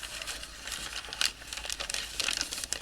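Paper is folded over into an envelope, giving soft, close crinkles and rustles in irregular bursts, with a couple of sharper crackles midway and near the end.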